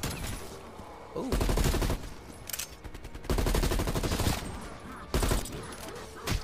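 Gunfire in a Call of Duty Zombies game comes in three loud, dense bursts of rapid automatic shots, separated by short lulls of quieter in-game noise.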